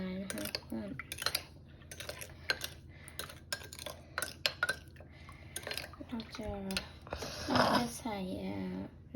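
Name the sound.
stirring a mixture until everything dissolves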